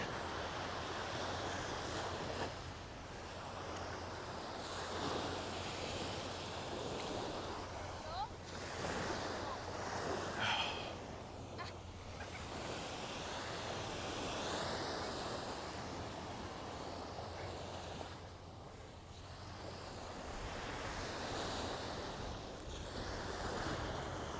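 Surf breaks and rolls on a Playa del Carmen beach about 36 hours before a hurricane hits, with gusty wind buffeting the microphone in a constant roar that swells and eases over the waves.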